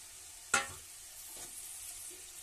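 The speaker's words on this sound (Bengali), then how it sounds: "এই যে ভেজে রাখা মাছগুলো আমি দিয়ে দিচ্ছি এর মধ্যে" Fried small fish dropped into a pot of boiling gravy for a spicy fish curry, with one sharp splash and sizzle followed by a quieter bubbling simmer and a faint second stir, close and with no talk.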